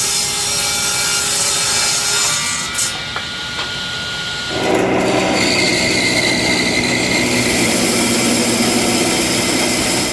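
Rhythmic rasping strokes of a saw cutting through wood, steady and close, pausing briefly midway before resuming louder and continuing to the end.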